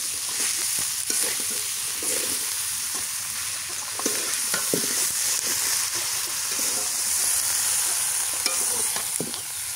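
Potatoes and taro chunks fry loudly in a pan, a continuous hissing sizzle broken by repeated scraping stirs of a spoon against the metal.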